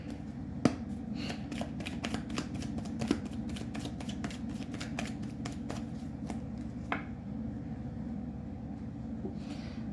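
Tarot cards are shuffled in a quick, even run of crisp riffling snaps. The sound is close and quiet, falls silent around seven seconds, then gives one last soft flick.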